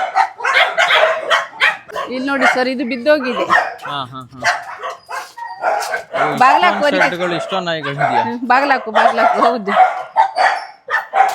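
Dogs bark in sharp, repeated yips and woofs at a rural home, mixed in with people talking close by.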